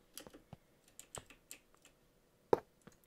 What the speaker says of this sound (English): I can't see what you're typing yet.